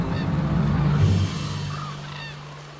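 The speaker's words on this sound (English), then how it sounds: "This is a habitat for international migrant birds, including the largest population of Siberian cranes." Large birds at a wetland habitat for migrant birds and Siberian cranes give loud honking calls close by, a few overlapping calls that fade toward the end.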